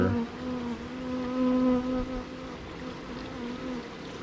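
Honeybees swarm around their queen while two hives are merged, making a close, steady droning buzz that swells and eases slightly, with no talking.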